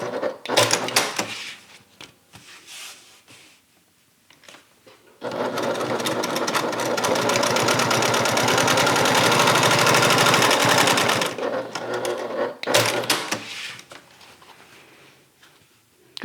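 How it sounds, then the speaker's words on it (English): A sewing machine runs in one steady, loud stretch of about six seconds while stitching down the sides of a folded slip pocket for a handmade bag, with quieter fabric handling and pauses before and after. "And we're going to stitch down the sides."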